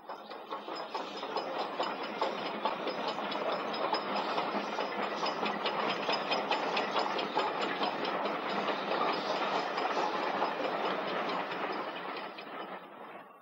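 Standard gauge locomotive running on a heritage Midland Railway line, a steady rhythmic clickety-clack of wheels over rail joints that swells, holds and fades as it passes.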